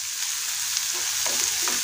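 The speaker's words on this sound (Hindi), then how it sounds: "अब इसमें डालेंगे बारीक कटा हुआ प्याज, प्याज को बढ़िया फ्राई कर लेंगे।" Finely chopped onion fries in a pan for paneer bhurji, giving a steady close sizzle with a few light stirring sounds.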